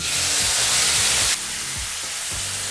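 Chopped tomatoes frying in hot oil, a steady close sizzle and hiss that drops sharply in loudness halfway through, with faint stirring knocks underneath.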